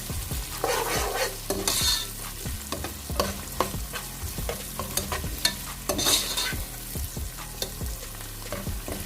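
Ingredients for spicy macaroni pasta stir-fried in a pan, a steady sizzle broken by repeated scraping strokes of a spatula, fairly close and continuous with no talking.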